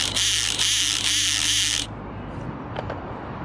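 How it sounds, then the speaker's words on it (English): The motor of a Wltoys 284010 1:28 4WD RC rally car, with a tiny brass chip from its pinion lodged in the reduction gear, gives a short, pulsing, buzzy grinding whir that cuts off abruptly after about two seconds. "There's a tiny little piece of brass broken off the motor pinion gear, and it's lodged itself in the reduction gear, and now pretty much makes this noise"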